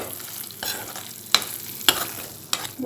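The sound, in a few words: stirring curry leaves rice with crushed peanuts in pan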